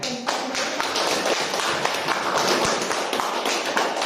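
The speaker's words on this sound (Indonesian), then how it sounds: "Kita berikan tepuk tangan." A classroom of students breaks into steady, dense applause after a group presentation, loud and continuous for several seconds with little talk over it.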